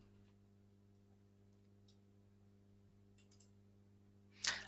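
A single sharp computer mouse click lands near the end, standing out briefly over a quiet, steady electrical hum in an otherwise still room.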